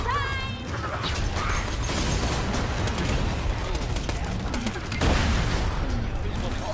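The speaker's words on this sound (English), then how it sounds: "I have a gun that just shoots bullets." Gunfire from a gun in Borderlands 2 rattles in dense bursts over continuous game noise and mechanical clatter, loud and busy, with a sharper burst near the end.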